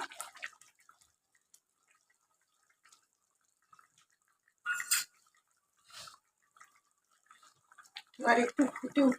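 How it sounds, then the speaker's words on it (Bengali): Saffron-soaked water poured into a dish while cooking an egg dish: a few brief splashing bursts and drips, separated by quiet, with a voice speaking near the end. "এবার আমি এই যে দেখুন কেশর ভেজানো জলটা দিই"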